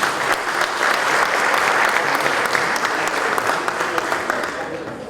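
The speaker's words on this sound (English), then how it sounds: "Let's give that man a round of applause, please." An audience at a men's conference claps steadily for several seconds, a dense wash of applause that fades slightly toward the end.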